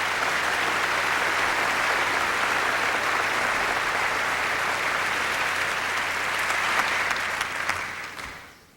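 A large theater audience applauds at a gala honoring Bill Cosby, a dense, sustained ovation that holds steady before fading out near the end.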